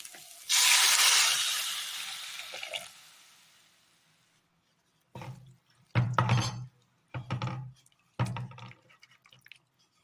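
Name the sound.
green pea stock water poured into curry pan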